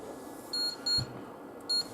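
An ATX power supply under repair, a Chieftec CTG 500-80p, gives three short high beeps, a bit apart, over a low steady hum on a workbench.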